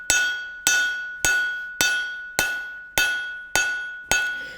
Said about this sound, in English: So we're pinching that piece of stock, forging it down.